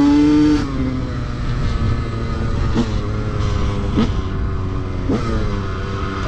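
A KTM 125 motorcycle engine revs hard and steadily, loud and close, with a high buzzing tone that rises and dips through several throttle blips and gear changes, no voices.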